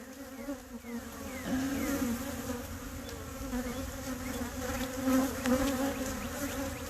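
Honey bees buzz inside an open hive, a dense steady hum with occasional individual bees droning past close by, soft and continuous with no talk.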